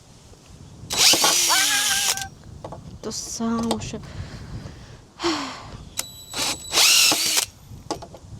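A power drill whirs in two loud bursts of about a second each, spinning up and winding down, with shorter mechanical rattles and people talking in between.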